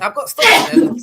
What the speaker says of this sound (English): Did someone sneeze?